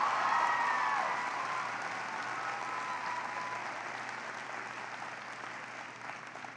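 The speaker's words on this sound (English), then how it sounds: "Give them a big round of applause." An audience applauds a high school marching band at a public event. Dense, sustained clapping at moderate volume slowly fades over several seconds, with no voices on top.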